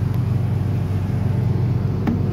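The diesel engine of a 2022 Ford F-250 runs with a steady, loud low rumble and a slight pulsing beat, heard up close with no talking.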